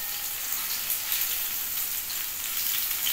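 Slices of pointed gourd (potol) frying in hot oil in a home pan, a steady dense sizzle with fine crackling that holds evenly throughout, close and moderately loud, with no voices.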